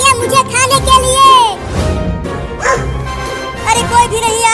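A big cartoon dog barks loudly several times in short bursts, mixed with whimpering yips and lively character voices speaking between the barks.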